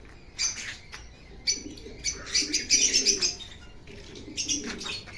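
Pet birds in a room chirp and tweet in quick bursts, with soft cooing mixed in and an occasional wing flutter, close by and lively, with no voices.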